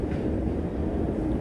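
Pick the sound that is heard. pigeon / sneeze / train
train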